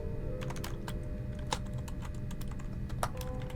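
Rapid typing on a computer keyboard, with steady clicks and a few sharper key strikes running throughout at moderate, close range. No one speaks.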